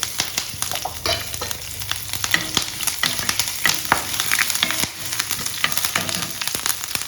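Dried red chilies, curry leaves, green chili and ginger crackle steadily in hot oil for a lemon idiyappam tempering, a dense close sizzle with scattered sharp pops and occasional stirring scrapes, no voices.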